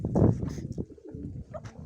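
Mykolaiv pigeons in a flock of about twenty-three coo in short, soft bursts close by, with no talking.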